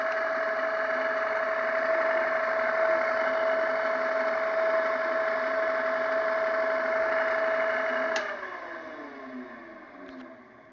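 A three-phase electric motor, wired with three phases and ground, runs with a steady hum and whir at a constant level for about eight seconds, then winds down and fades as it is switched off.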